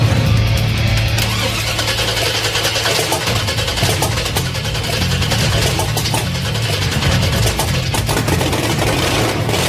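A 1978 Pontiac Firebird's freshly installed engine roars steadily after starting, a loud, dense, rough mechanical rumble close by with no pauses.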